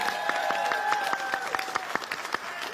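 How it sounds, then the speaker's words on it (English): Applause from a crowd, a steady patter of many hands clapping with a few sharper claps standing out, moderately loud, while a tonal sound sustains in the background. "Malob, give them another applause."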